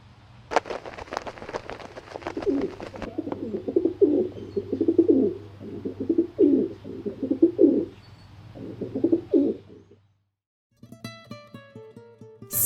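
A pigeon coos in a series of soft, rhythmic, throaty calls under a low steady hum, after a burst of sharp crackles at the start, ending with a short musical chime.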